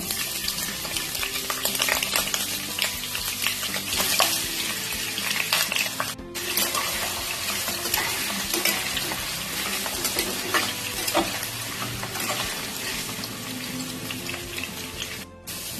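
Cut potatoes sizzle loudly and continuously in hot mustard oil with a bay leaf and dried chili in the pan, a dense close frying hiss with occasional crackles and stirring, and no talking.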